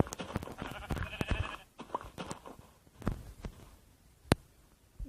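Sheep in a video game bleat several times in a short run, mixed with scattered clicks and footstep-like taps, then a sharp snap; the sounds are moderately close and uneven.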